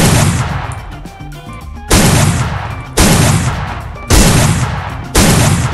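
Shotgun blasts from an M590 in a video game, four loud booming shots at about one-second intervals, each with a long decaying tail, after a stretch of quieter rattling game sounds.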